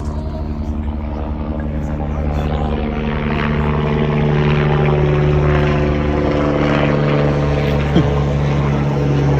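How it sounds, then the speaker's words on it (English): A helicopter sound sample with a steady, loud whirring engine drone and rotor hum, holding constant throughout with a small click near the end. "I'm going to go on to this helicopter."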